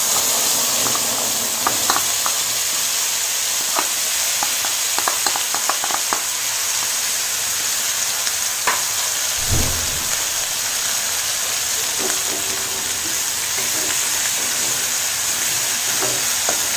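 Cinnamon and ground masalas fry in a pan for a no-onion, no-garlic palak paneer, giving a steady, close sizzle with light scattered crackles and the odd stir, and no talking.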